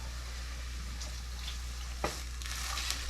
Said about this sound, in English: We're going to have to keep mixing this.